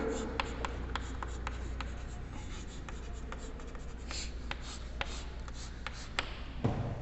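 A pen scratches and taps across paper while noting down given data for an aircraft problem, a close, steady run of short strokes over a low background hum.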